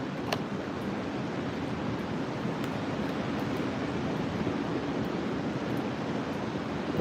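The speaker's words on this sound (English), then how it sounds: "Don't the waves sound so nice?" Ocean waves wash steadily along a beachfront in a continuous, even surf roar with no distinct breaks, mixed with some wind, and nobody speaks.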